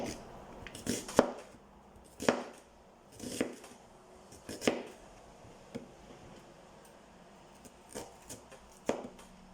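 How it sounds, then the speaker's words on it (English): A knife chops ingredients on a cutting board for Portuguese-style feijão, with sharp, spaced chops close up, some in quick pairs, separated by pauses and light handling noise. "And I'm just going to chop that."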